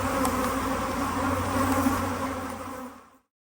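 Honey bees buzzing steadily and close while nucs are combined at an open hive, a dense continuous drone that holds level for about three seconds before cutting off abruptly.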